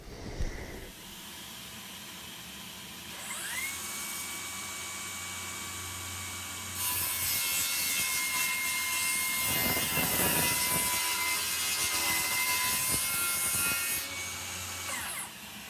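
A power saw rips through a pine board along a clamped guide for a bench build, starting with a rising motor whine, then a loud, steady, hissing cut lasting several seconds before spinning down.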